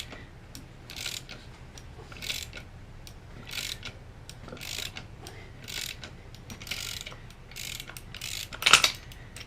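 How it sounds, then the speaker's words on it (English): A wrench cranks a ball joint press on an ATV control arm, giving repeated ratcheting clicks in short regular bursts close up over a low mechanical hum, with a sharper final click near the end. "taking the wrench, putting her on there, and start cranking"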